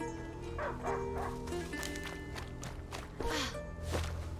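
A dog barks several times in the medieval video game A Plague Tale: Innocence, the sharp yaps rising over background music and ambience.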